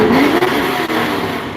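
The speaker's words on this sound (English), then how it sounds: "We know you got a loud car." A loud car engine revs at a busy gas station with many pumps, a strong close roar with rising pitch that holds steady, with no talk over it.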